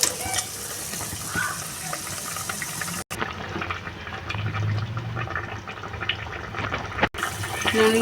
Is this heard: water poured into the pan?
yes